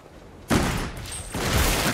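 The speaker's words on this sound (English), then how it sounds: "That's not a shotgun. That's a bloody grenade launcher." Grenade launcher fire in the VR zombie shooter Arizona Sunshine 2: a loud, sudden blast hits at once, then a rumbling boom carries on with a second burst soon after, close and dense.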